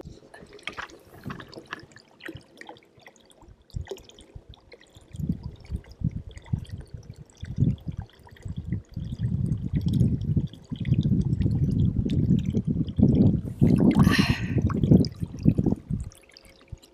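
A smallmouth bass is lowered back into the water, a close burst of splashing and sloshing that builds into a steady churn before fading, with quieter handling noises before it.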